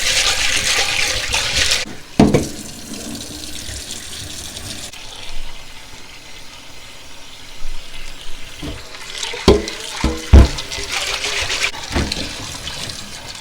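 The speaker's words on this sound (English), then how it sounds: "all I'm doing is washing my peas. I'm gonna wash my peas." Tap water runs steadily into a kitchen sink while dried peas are rinsed for Jamaican rice and peas, a continuous splashing hiss broken by a few sharper knocks and clatters of the pot.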